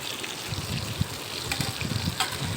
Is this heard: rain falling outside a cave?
no